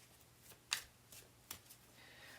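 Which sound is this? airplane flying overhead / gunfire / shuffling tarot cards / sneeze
shuffling tarot cards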